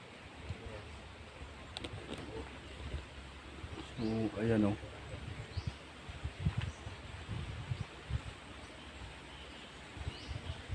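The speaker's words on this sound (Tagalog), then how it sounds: "Mga ibon." Birds call faintly outdoors near a hillside cemetery on a mountaintop, with one brief, fuller call standing out midway through a bed of wind, rustling and low voices.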